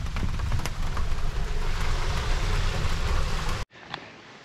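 Rain heard from inside a moving vehicle: a dense, steady hiss of drops and road spray with scattered sharper patters, which cuts off abruptly to a much quieter background near the end.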